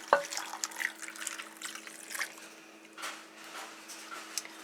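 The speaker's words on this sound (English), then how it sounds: "And in with our liquid right in the bottom." Liquid is poured into the bottom of a slow cooker holding a pork roast, a soft steady trickle and splash heard close up, fairly quiet and continuous with no talking.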